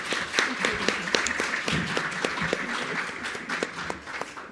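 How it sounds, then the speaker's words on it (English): Conference audience applauding in a hall, dense sustained clapping for several seconds with scattered voices mixed in, fading slightly toward the end. "let's give everyone a round of applause before we introduce my speaker"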